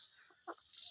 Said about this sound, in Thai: มีเสียงไก่ป่าขันอยู่ตัวหนึ่งนะครับแต่ว่าอยู่ไกลมากนะครับ